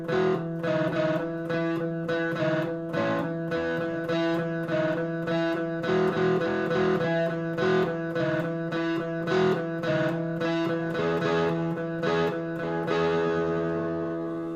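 An electric guitar run through distortion and modulation effects plays a worship song line. It moves through a picked melodic phrase with slides over sustained, chorused tones, steady and prominent with no talk.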